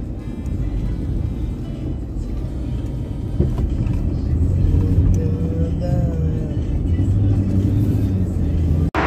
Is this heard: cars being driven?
yes